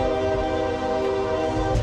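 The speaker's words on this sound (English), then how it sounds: "We had train going on in the background." Passing train sounds its horn in a sustained, loud, tonal blast that holds nearly two seconds over a low rumble of rail noise, with no talking.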